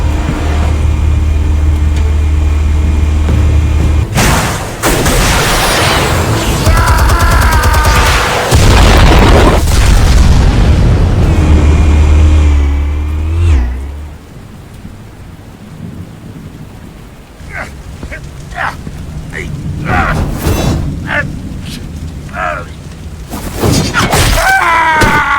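Explosives detonate in a heavy, sustained booming rumble that fills the first half, then fades into quieter debris-like crackles and a few sharp bursts near the end.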